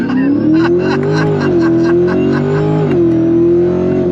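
Supercharged 2024 Corvette Stingray at full throttle, a loud steady engine howl climbing through the revs with a brief shift dip, close and continuous with no talk.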